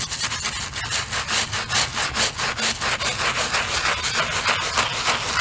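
Scrub brush scrubbing a dirty tire on a Tahoe, close rhythmic bristle strokes rasping back and forth about twice a second, steady and loud with no talking.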